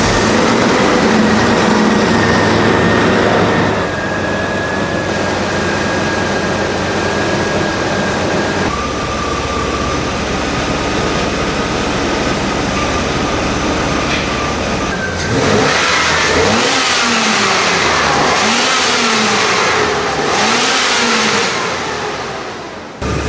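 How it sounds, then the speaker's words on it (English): A BMW 850i E31 V12 idles steadily at full operating temperature, a loud continuous engine drone with a shift in tone partway through and a busier, rougher stretch near the end. "Engine is right now running for 15 minutes and it is on fully operating temperature."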